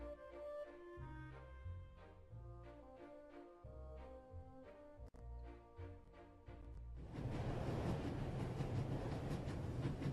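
A train races at full speed in the video game The Raven: Legacy of a Master Thief, rising to a loud, dense rumble of rolling wheels that takes over after a stretch of quieter music.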